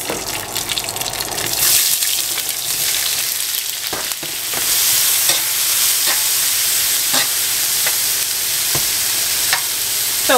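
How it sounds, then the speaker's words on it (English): Onions frying in oil in a pot, a loud continuous sizzle and crackle with scraping stirs and occasional clicks, no voices over it. "So we're just going to kind of cook these onions down for a while."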